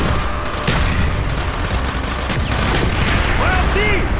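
Dense gunfire in a Call of Duty: Black Ops battle keeps up steadily and loud throughout, with overlapping shots and rumble, and shouted voices mixed into the din.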